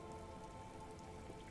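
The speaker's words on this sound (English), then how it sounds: "There are rain circles on water all around." Rain falling on water in the video game Disco Elysium, a faint, steady patter of droplets with a soft hiss, continuous and distant, with no talk.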